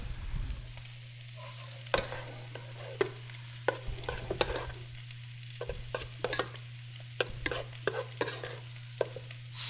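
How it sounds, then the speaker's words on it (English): A spoon stirs risotto in a pan on the stove, scraping and clinking in irregular strokes over a steady low hum and soft sizzle, close and moderately loud, with no talking. "Stir up our risotto a little bit."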